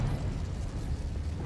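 A Confringo fire-blast spell going off in the Hogwarts Legacy video game: a loud, sustained booming rumble that fills the whole moment, heavy in the low end, with no speech.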